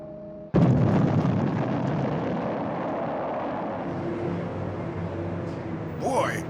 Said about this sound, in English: Boy, that explosion was really exciting.